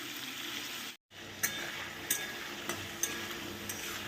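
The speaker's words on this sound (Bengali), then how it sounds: "চিংড়ি মাছটা কিন্তু আমার ভাজা হয়ে গেছে" Prawns frying in hot oil make a continuous soft sizzle, broken by a brief dropout, with sharp little pops and clicks spaced through the frying.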